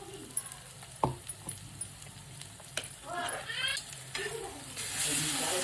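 An onion-tomato masala paste fries quietly in a pan for tawa mutton fry. A soft sizzle rises toward the end, broken by a few sharp clanks of stirring, with a voice speaking over it.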